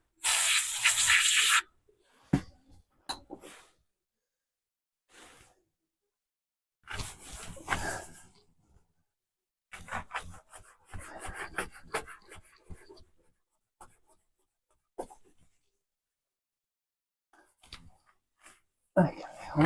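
Degreaser sprayed and wiped on a Honda Acty kei minitruck: a sharp hiss of spray at the start, then scattered bursts of rubbing and wiping separated by quiet pauses, close and fairly faint.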